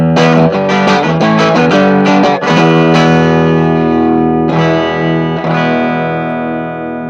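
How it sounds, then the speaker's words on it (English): An electric guitar with a clean tone plays through an Orange head into a Marshall 1x10 cabinet, miked with an SM57: quick strummed and picked chords, then sustained ringing chords struck twice more, loud and alone. "So here is my clean tone."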